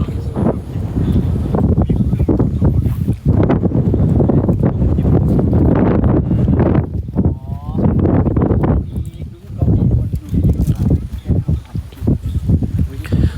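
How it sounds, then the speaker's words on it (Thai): Strong gusty wind buffets the microphone outdoors at Khao Yai in Thailand, a continuous low rumble running through the whole stretch, mixed in with people talking nearby. "เสียดายคือมันลมมันแรงไปไง"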